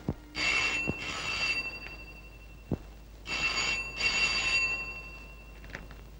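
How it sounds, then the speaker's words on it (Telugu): An old-style telephone bell rings in two bursts of double rings, with a few sharp clicks and knocks in between. "ఫోన్ ఎత్తు"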